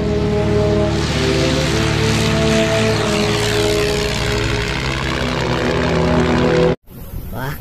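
Steady propeller airplane engine drone, an old aircraft passing close and loud with harmonic hum, held for several seconds before cutting off abruptly near the end.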